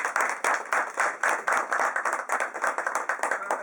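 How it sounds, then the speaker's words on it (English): Applause at a political party executive meeting in a hotel, a small group clapping quickly and unevenly with crisp individual hand claps, close and lively. "Another round of applause is deserved."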